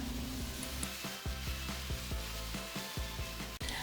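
Ground pork stuffing with sage and thyme sizzles steadily in a pan, a soft continuous frying hiss with faint crackles and occasional spoon scrapes, fairly quiet and close.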